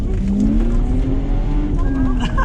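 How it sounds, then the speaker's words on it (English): A 150bhp Lexus drifts on a track day, with a loud, sustained tire squeal that rises and falls over steady engine roar as the car spins. "E-brake! Drift, I'm like... Man, I'm just spinning here like crazy."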